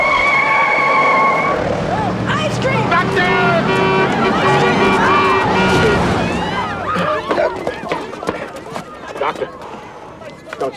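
Car tires screeching as a vehicle skids to a stop on a city street in 1989 film Do The Right Thing, a loud rising squeal amid street commotion and shouting voices, followed by scuffling and talk.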